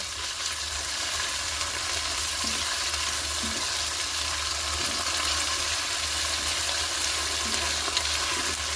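Ginger garlic paste fries with onions in a pan while making cauliflower kofta, giving a continuous, even sizzling hiss at moderate volume with no talking.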